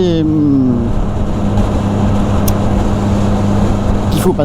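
A Triumph Street Triple 660S motorcycle engine rising in pitch as it revs up, then holding a loud, steady droning run close by, with a brief high rev at the end.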